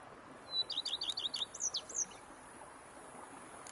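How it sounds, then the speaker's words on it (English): A bird in The Witcher 3 game world sings a quick run of about eight high, bright chirps, followed by a few sliding whistles, clear against a faint, quiet outdoor ambience. "Bees buzzing, birds chirping."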